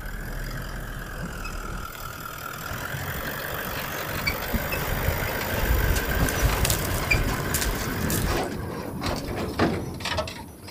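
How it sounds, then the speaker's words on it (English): A vehicle rolls slowly into a bush campsite on farmland, with a steady nearby engine rumble and crunching tyres throughout and no talking. "I'm just driving in at the moment trying to find a campsite."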